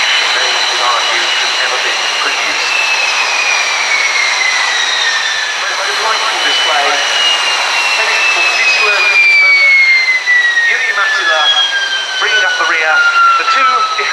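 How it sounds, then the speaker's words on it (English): Two vintage de Havilland Vampire jets of the Norwegian Air Force Historical Squadron fly at the 2018 Fairford airshow, a loud sustained jet roar with falling whine tones as they pass, heard alongside a commentator's voice. "the two de Havilland Vampires from the Norwegian Air Force Historical Squadron"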